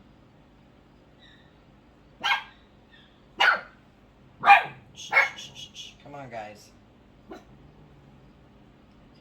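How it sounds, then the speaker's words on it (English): A neighbor's dog barks outside in several sharp, spaced yaps with a brief whimpering whine, fairly close, while someone softly shushes and speaks over it. "Neighbor dog barking outside."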